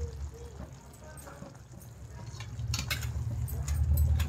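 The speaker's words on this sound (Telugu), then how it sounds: "అన్నీ ఒకసారి కలిపేసుకోవాలి" A spoon stirs spices, tamarind pulp and chilli powder into a tomato pickle in a pan, with soft scraping and clinks that build louder toward the end over low background noise.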